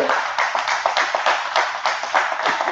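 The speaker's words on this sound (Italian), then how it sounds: "vorrei che facessimo un applauso" Audience applause in a hall during a municipal planning presentation: a steady patter of many hands clapping together, moderately loud and continuous, with no other voices over it.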